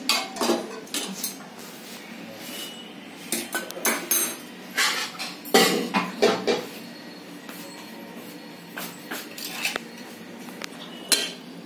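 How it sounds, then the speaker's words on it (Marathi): Cooked vegetables are taken out of a pressure cooker with a metal spoon, making repeated close clanks and scrapes against the pot in an irregular rhythm throughout. "भाजी मी काढून घेते कुकरमध्ये"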